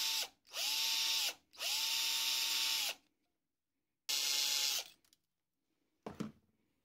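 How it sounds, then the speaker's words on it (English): A power drill whirs in three short, close bursts separated by silence as a drill bit crushes alternator carbon brushes, followed by a brief faint clatter. "I simply crush them with a drill bit."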